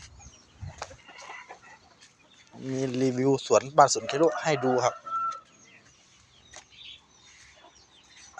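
A fighting rooster (gamecock) on a Thai home garden farm crows loudly once, close by, with clucking before and after, while someone talks at moments.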